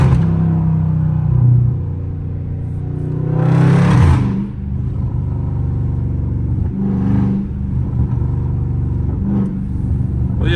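Dodge Scat Pack V8 engine on a track, a deep loud rumble with repeated revs swelling and falling, a sharp rise around four seconds followed by lighter blips over a steady idle.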